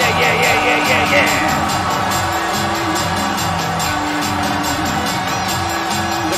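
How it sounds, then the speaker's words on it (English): Wrestling crowd aboard a cruise ship at sea cheering for Sting, a loud, steady roar of voices and whoops with commentary talking over it throughout. "The crowd going crazy for Sting and Stang here tonight"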